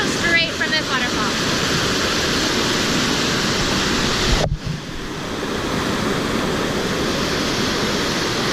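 Water rushes at the Mae Sa waterfall in a steady, loud, close roar. Wind buffets the microphone, and a brief dropout breaks the sound midway.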